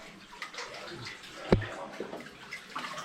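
Water sloshes and splashes close by as someone wades through a flooded level of Haggs Horse Level mine in Cumbria, UK, with irregular swishes and one sharper splash partway through, echoing slightly in the enclosed tunnel.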